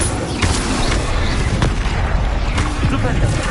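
Explosive fire-spell blasts of Incendio from a Harry Potter game burst out as loud, rumbling booms with a few sharper hits, filling the whole moment without pause.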